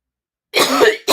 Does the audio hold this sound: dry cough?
yes